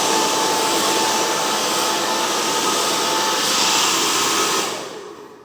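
A hair dryer runs steadily and loudly, blow-drying curly hair after a keratin treatment, a constant broadband whoosh that holds for several seconds before fading out near the end.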